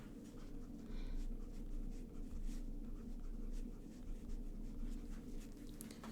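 A fountain pen with a rounded stub nib scratches softly across paper in short strokes, faint and close, with a low hum underneath and no talking.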